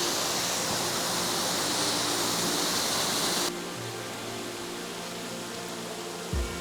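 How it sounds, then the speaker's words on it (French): Dense, hissing roar of a large waterfall with ice, loud and steady for the first half and then dropping to a quieter, duller rush, with no voices. "Devant cette cascade,"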